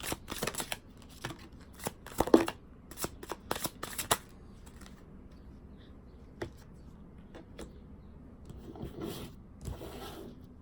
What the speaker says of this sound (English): Let's pull out 3 cards.